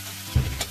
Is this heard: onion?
yes